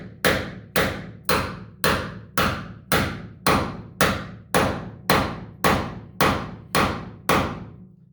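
Hammer striking repeatedly to loosen truck bed bolts on a Ford F150, about fifteen loud, evenly spaced metallic whacks, each ringing briefly before the next, close up and with no talk.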